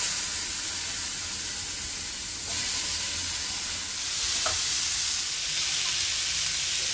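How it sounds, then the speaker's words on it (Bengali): Bitter gourd and eggplant frying in leftover fish-frying oil in a frying pan, a loud, continuous hissing sizzle that holds steady close up, with a faint tap or two of utensils. "ওতে উচ্ছে বেগুনটা ভেজে নেব"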